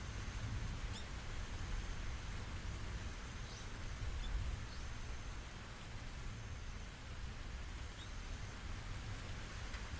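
Steady rain falling, a dense, even hiss that continues unbroken throughout with a faint low rumble underneath, no voices.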